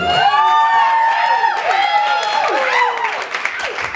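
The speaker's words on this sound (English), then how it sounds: "how about a hand for the matron of honor, Amy Ferguson" Wedding guests in Mesa, Arizona applaud the matron of honor. Loud clapping mixes with rising and falling whoops and cheers that taper off over a few seconds.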